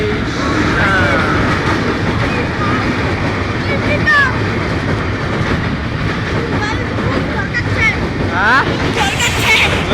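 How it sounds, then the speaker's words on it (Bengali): A train rolls past on railway tracks, its loud, steady rumble and rhythmic wheel clatter filling the whole stretch with occasional squeals, while people talk over it. "এই যে দেখেন ট্রেন চলে আসছে"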